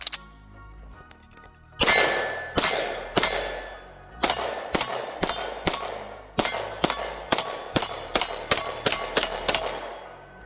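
A Springfield XD Mod 3 pistol fires a test string of roughly fifteen sharp, loud shots, some spaced apart and then in quicker bursts, each with a short ringing tail.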